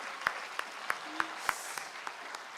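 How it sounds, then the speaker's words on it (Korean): Sparse hand clapping from an audience at a political talk. There are about eight separate, fairly sharp claps at a slow, uneven pace, moderately close, with no talking over them. "박수 한번 보내주세요."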